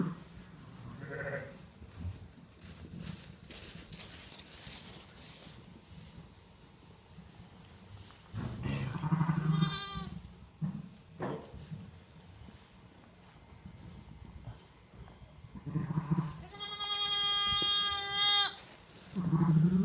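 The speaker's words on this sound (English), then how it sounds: "There we have it, Mummy sheep with her 2 little lambs." A ewe and her two newborn lambs bleat at intervals in a farm nursery pen, with loud, close, quavering cries in short bursts separated by quieter rustling and shuffling.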